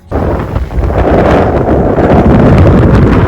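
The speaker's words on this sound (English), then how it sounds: "It's super windy" Strong wind at White Sands, New Mexico buffets the microphone, a loud continuous roar that rises sharply at the start and stays heavy throughout.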